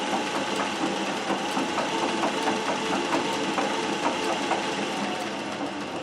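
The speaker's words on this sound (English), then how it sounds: "And then if you really speed up, you can hear the gears running." A Singer 411G sewing machine driven by treadle and running unthreaded at speed, its gears whirring in a steady, dense mechanical clatter with a fast rhythmic ticking, close and continuous with no voices over it.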